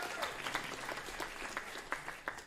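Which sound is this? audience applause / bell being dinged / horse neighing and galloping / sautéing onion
audience applause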